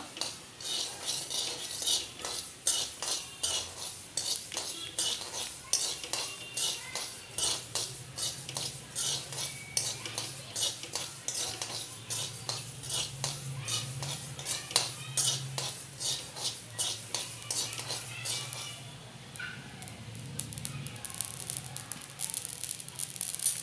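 Ingredients for ladoo dry-roasting in a pan on the stove give off dense, rapid crackling pops that continue steadily for most of the stretch, with occasional scraping of a spoon and a brief shift near the end.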